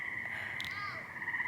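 Tree frogs call at night in a steady high trilling chorus that fills the background, with a brief, brighter call standing out partway through.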